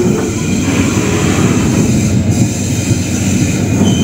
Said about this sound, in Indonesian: Ini dia kereta api Logawa dari Purwokerto dengan tujuan akhir stasiun Jember.